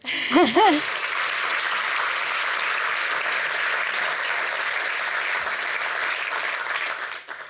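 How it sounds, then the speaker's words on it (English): Audience at a 2023 science award ceremony breaks into sustained, dense applause that holds steadily for several seconds before tapering off, following a brief spoken line at the start. "indeed, a round of applause"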